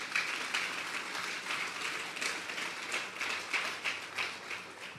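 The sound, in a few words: audience applause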